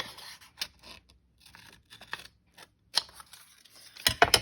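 Scissors snip through paper in short, uneven cuts with rustling between them, close and quiet, ending in a brisker flurry of snips and crinkles while crafting altered paper clips.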